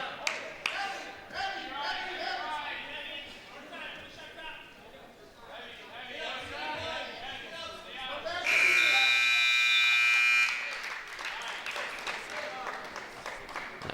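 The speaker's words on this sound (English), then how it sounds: "Buzzer sounds." A long, loud electronic buzzer sounds once for several seconds to end a period at a high school wrestling triangular in a gym, over crowd chatter and applause before and after.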